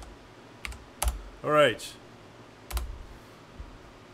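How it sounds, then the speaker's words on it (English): Typing on a computer keyboard comes as a few sparse key clicks during game level building in Unreal Engine 5, with a person briefly speaking in between. "And helps if I type correctly."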